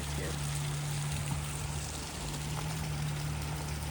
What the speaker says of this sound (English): There's a waterfall here too.